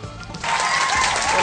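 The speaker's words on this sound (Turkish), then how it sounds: "Bunun için bir alkış gelsin sana." Applause for a young girl breaks out after a brief pause, a steady wash of clapping from a small group that stays loud and even to the end.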